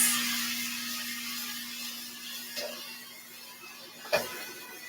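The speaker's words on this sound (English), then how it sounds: "So let me turn my fan on so it takes out the excess." A steady mechanical hum and airy whoosh of a kitchen exhaust fan runs throughout, with a couple of faint clicks.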